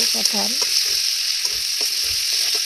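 Raw jackfruit and potato, fried earlier, sizzle and hiss steadily in a spiced pan while being stir-fried, with a few soft stirring scrapes over the continuous close frying noise.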